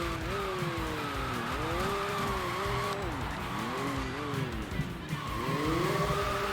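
A race car's engine in the Sega GT Online video game holds near its redline, a loud, sustained high whine that climbs and dips with each shift and corner, with tire squeal mixed in and no voices over it.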